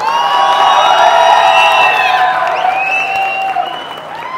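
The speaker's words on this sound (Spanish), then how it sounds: "Y aplausos para Dominus Drag" A television talent show audience applauds and cheers a contestant, with dense clapping and whoops and shouts rising over it, fading slightly toward the end.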